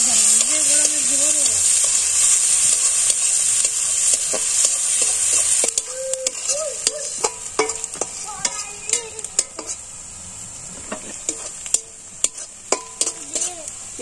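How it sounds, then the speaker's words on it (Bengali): Onions fry in a pot over a clay village stove, a sizzling hiss under repeated scraping and clinking of a metal spoon stirring against the pot, busier toward the end, with a voice heard briefly. "পেঁয়াজটা হালকা হালকা ভাজা হয়েছে"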